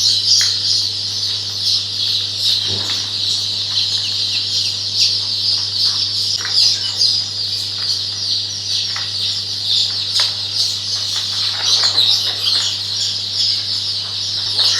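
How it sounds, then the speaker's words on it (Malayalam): New Hampshire chickens on a large egg-laying farm in Kerala cluck and call continuously, a dense flock chorus with occasional sharper squawks over a steady low farm hum, with no talking. "ഇത് ന്യൂ ഹാംഷെയർ എന്ന് പറഞ്ഞ കോഴികളാണ്."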